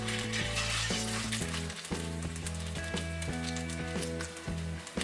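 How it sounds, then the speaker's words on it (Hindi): Chapli kabab patties fry in hot oil in a frying pan, giving a continuous close sizzle under a bright, rhythmic musical background with no voices. "फिर इसे गरम तेल में फ्राइंग पैन में डाल दें।"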